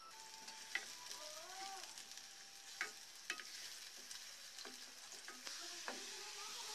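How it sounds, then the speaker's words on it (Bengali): Chopped onion and a small clove of garlic frying in a pan until brown, a soft steady sizzle with occasional clinks and scrapes of a spatula, quiet and close, without speech. "এবার এগুলোকে ভেজে নিব ব্রাউনিশ করে।"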